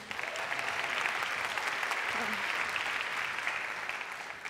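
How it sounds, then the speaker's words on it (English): Sustained audience applause fills a conference mainstage hall, a dense steady wash of many hands clapping at even loudness throughout, with no voices over it. "Another applause for Jennifer, please."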